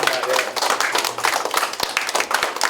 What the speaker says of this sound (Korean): 네, 박수 보내주시기 바랍니다.